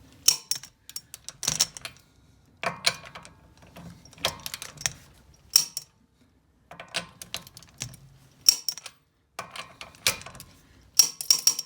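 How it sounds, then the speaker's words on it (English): A torque wrench clicks repeatedly as lug nuts are tightened in a star pattern during a rear brake job on a 9th-generation Honda Civic Si, giving sharp, close metallic clicks in bursts separated by short pauses, with no talk. "I'm going to go through and torque this in a star pattern. And click just like that."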